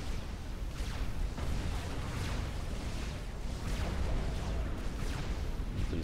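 An Oblivion turret blows up in the real-time strategy game Supreme Commander, heard as dense, continuous rumbling blasts and booming battle noise, steady and fairly loud throughout with no distinct single impact.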